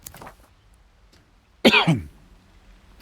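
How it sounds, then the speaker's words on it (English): A single harsh cough, close and loud, bursts out into a microphone after a quiet stretch, then fades back to low room hush. "I'm coughing into the microphone."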